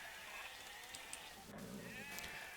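Sheep in Age of Empires II give a few faint, brief bleats over a quiet game background.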